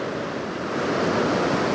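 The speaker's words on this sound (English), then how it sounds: "motion in the waves coming in over the rocks" Sea waves wash in over a lump of coastal rocks on the Northumberland coast, a steady broadband rush of surf that swells slightly louder toward the end, close and continuous with some wind noise.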